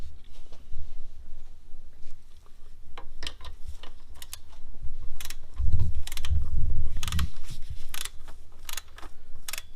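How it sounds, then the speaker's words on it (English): A torque wrench ratchets in short bursts of clicks while tightening the four 10 mm nuts on a Fox Body Mustang throttle body to 15 foot-pounds, with a few louder clusters of clicking in the middle. "now we're going to torque it down to 15 foot-pounds"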